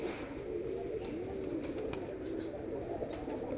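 Pigeons of a different breed coo steadily in a low, rolling murmur at a village home, continuous and fairly close, with no talking.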